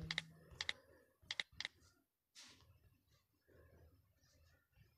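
A name is typed on a computer keyboard while working in the PixelLab app, a few quick bursts of sharp key clicks followed by a pause and faint room noise, close and quiet.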